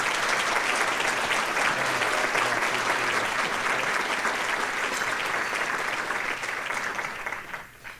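Sustained applause from a seated audience at an award breakfast, a steady, even roar of many hands clapping for several seconds before tapering off near the end.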